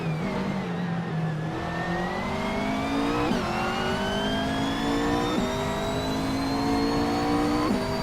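2014 Citroën GT race car in a racing video game, engine revving loudly and steadily with rising pitch, broken by a few quick upshifts that drop the tone before it climbs again, heard close and continuous.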